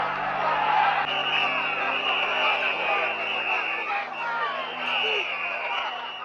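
A cricket crowd at a West Indies versus England match roars and cheers as spectators run onto the field after England's last wicket falls, a broad continuous din of voices, with a commentator talking over it.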